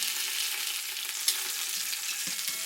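Beer brats browning in an Instant Pot with hard apple cider, a steady close sizzle and crackle of frying sausages, broken by a brief scrape as they are turned, with no talking.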